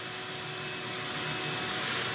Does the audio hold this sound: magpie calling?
no